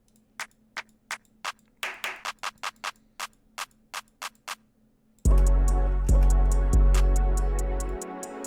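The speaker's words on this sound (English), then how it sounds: "Might do a clap actually." Crisp clap hits from an FL Studio beat tick out in a steady pattern, then heavy booming bass and a full mix crash in for the final stretch.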